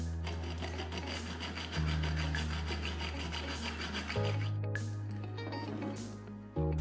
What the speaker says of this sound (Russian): Далее ножовкой по металлу нужно отрезать горлышко.